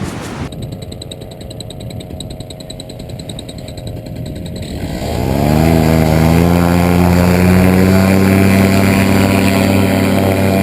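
A powerful paramotor engine runs steadily with a droning propeller buzz, then throttles up around the midpoint into a louder, fuller roar that holds to the end, close and with no speech.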